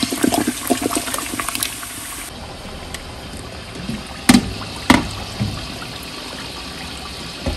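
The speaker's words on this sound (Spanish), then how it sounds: "lo que le da ese sabor caramelizado pues es la coca, así que le vamos a agregar una de 600." A 600 ml bottle of Coca-Cola poured into a cooking pot, a close, steady fizzing splash of liquid, followed by a quieter hiss with a couple of sharp clunks.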